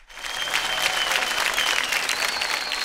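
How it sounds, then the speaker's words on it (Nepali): An audience at a Nepali comedy and music show bursts into sustained applause, a dense, even clapping that swells in quickly and holds steady for a few seconds. "एकचोटि उहाँको लागि जोरदार ताली पिटाउँछ"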